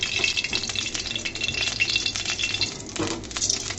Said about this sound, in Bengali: এখানে আমি একটা কড়াই বসিয়ে দিয়েছি, দিয়ে দিচ্ছি সামান্য পরিমাণে রান্নার রেগুলার সয়াবিন তেল।